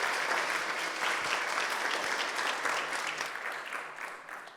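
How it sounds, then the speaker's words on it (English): An audience at a fashion event claps in a dense, sustained round of applause that holds steady and then gradually tapers off toward the end. "let's have a big round of applause"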